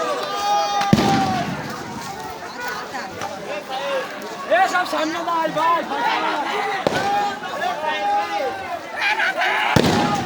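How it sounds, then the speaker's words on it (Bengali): Bursts of gunfire crack out during a police clash with students in Khulna, sharp reports recurring amid crowd chatter and shouting voices close by. "দর্শক কি পরিমাণ গুলি বর্ষণ হচ্ছে অবশ্যই আপনারা শব্দ শুনে কিন্তু বুঝতে পারছেন"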